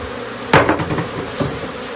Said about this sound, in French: je secoue le couvain au-dessus de la ruche pour que les abeilles tombent dedans